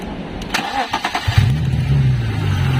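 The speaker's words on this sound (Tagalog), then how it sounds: "Start natin yung makina." A BMW E30 320 with an M50B20 six-cylinder engine cranks with a few rapid starter bursts, then catches and settles into a steady, rumbling idle close by.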